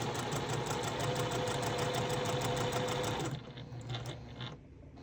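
A home sewing machine stitches a short back stitch at the start of a seam on a mini charm pack quilting project, a steady mechanical whir that runs continuously, then slows and fades near the end.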